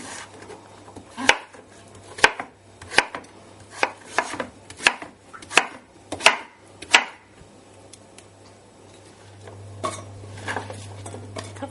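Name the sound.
knife chopping pumpkin strips into chunks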